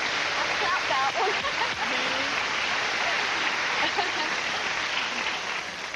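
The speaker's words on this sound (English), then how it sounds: "I'll clap that one" A television studio audience on a dating game show claps with a continuous, fairly loud wash of hands that fills the whole stretch.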